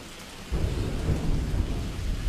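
Heavy rain with a deep thunder-like rumble, used as a sound effect in a Uyghur stage play, starting abruptly and then pouring as a loud, dense, steady wash with no voices.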